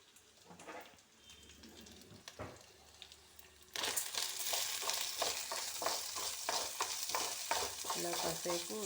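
Lentils frying in a pan until golden, first faint, then a loud steady sizzle with rhythmic stirring scrapes running throughout.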